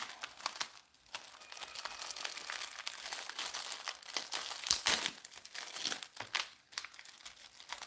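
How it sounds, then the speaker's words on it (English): Gold foil wrapping paper crinkles and rustles as it is handled up close, a continuous papery crackle with sharper crunches and one louder crisp snap midway. "this wrapping paper can actually be used as foil as well"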